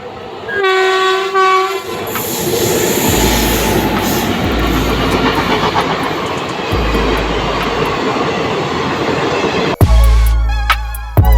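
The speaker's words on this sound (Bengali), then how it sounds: "ট্রেন কিন্তু আসছে হর্নের আওয়াজ শোনা যাচ্ছে" An electric locomotive's horn blares near the start, then a loud rumbling local passenger train rolls in with rattling wheels, and another sharp horn blast sounds at the end.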